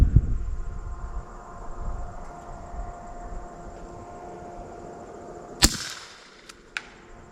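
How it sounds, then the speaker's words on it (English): A single sharp crack from an FN 545T pistol fired outdoors at a target 200 yards away, standing out clearly against a quiet background, followed by two fainter clicks or snaps. "First shot at 200 yards"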